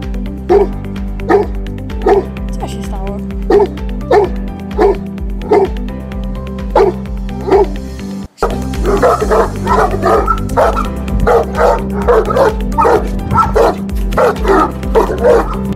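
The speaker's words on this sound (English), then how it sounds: "Powerful and loudest bark. Let's hear it first and we'll decide accordingly." A Tosa Inu and a Fila Brasileiro barking in turn: first a series of deep, evenly spaced single barks, then after a brief cut a faster, denser run of loud, powerful barks, close and dominant.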